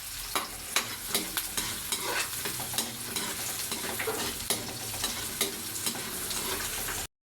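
Garlic fries in a pan for a squid dish while it is stirred steadily: a continuous close sizzle with regular scraping strokes throughout, then a sudden stop at the end.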